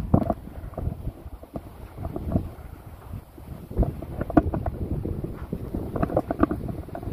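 Outdoors on a farm where a manure spreader is in use, wind gusts buffet the microphone in a continuous low, rumbling roar with irregular thumps and no voices.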